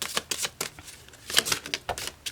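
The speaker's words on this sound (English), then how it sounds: "I'm going to go ahead and shuffle it for you" A deck of tarot cards being shuffled by hand: a quick series of crisp papery riffles and slaps, close and dry, with no voices.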